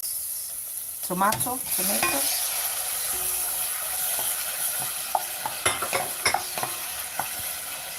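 Chopped tomato hitting a hot pan for a macaroni sauce, a sudden burst of sizzling followed by steady frying with spoon scrapes and clinks against the pan, no voices.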